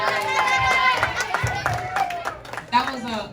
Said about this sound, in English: Xavier, give him a round of applause.